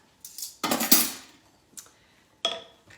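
Spoon scraping and clinking against a crockpot while minced garlic is mixed into spare ribs, a few sharp metallic knocks and scrapes, close and alone.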